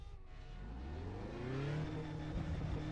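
A Radical race car engine in iRacing, on the tube-frame circuit at Oulton Park, revs hard while spinning in first gear, its pitch climbing steadily, loud and close with no talking.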